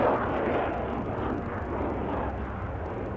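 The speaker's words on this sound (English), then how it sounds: "His task is to execute a high-speed taxiing test, a fast run on the ground." Steady roaring engine noise from an experimental aircraft on a high-speed taxiing test run along the ground, a continuous broad rumble without pause, fairly loud and alone.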